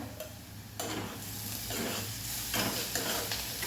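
Chopped onion and garlic sizzle in a pan over a medium flame, with a steady frying hiss and repeated scraping stirs at close range, no voices.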